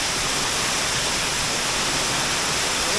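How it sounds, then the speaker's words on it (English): A waterfall pouring near a cave in the Yorkshire Dales, heard close up as a dense, steady, full-band roar of rushing water with no breaks and no voices. "And the waterfall, bloody hell, it's just there, look."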